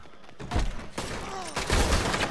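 Gunfire in the Red Dead Online video game, where Maxim machine guns are in use: a few dense bursts of shots at close range, cracking through a busy game background.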